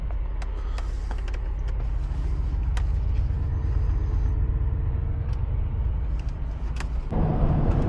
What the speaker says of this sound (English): Bring that 4-liter V8 to life, and we'll get rolling.